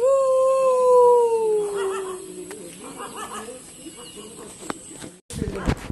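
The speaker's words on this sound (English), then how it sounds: "there is a dog. We are all irritating that dog." A dog howls one long, loud, falling note that fades out, followed by quieter background noise and a sudden louder burst of sound at the end.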